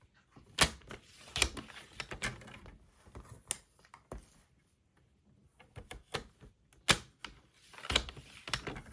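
A paper trimmer cutting cardstock, with sharp, close clicks and slicing snaps at irregular intervals, mixed with softer handling and sliding sounds of the paper.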